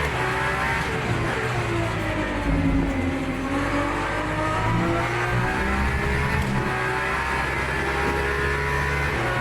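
Race car engine in a Le Mans endurance racing video game, loud and continuous, with the pitch falling and rising as the car shifts and revs through corners, a hint of tire squeal, no voices.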